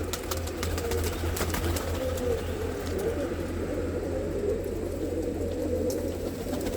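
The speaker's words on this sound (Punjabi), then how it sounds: "ਇਹ ਜਿੰਨੇ ਵੀ ਕਬੂਤਰ ਤੁਸੀਂ ਦੇਖ ਰਹੇ ਹੋ ਸਾਰੇ ਦੇ ਸਾਰੇ ਮਿੱਤਰੋ ਨਰ ਨੇ" Male pigeons coo steadily in a loft near Madhpur, Samrala, a dense low rolling murmur over a constant background hum, with no talking.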